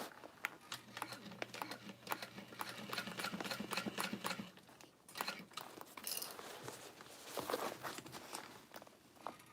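A sewing machine stitches a small Snow Drop bag, humming in a steady close whir for about four seconds before stopping, followed by light handling clicks and rustles.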